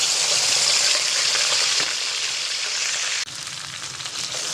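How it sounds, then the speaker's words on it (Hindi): Steady, dense sizzle of garlic-ginger paste frying in hot oil, loud and close, with a brief dip near the end and no talking. "लहसुन अदरक का पेस्ट फ्राई हो चुका है।"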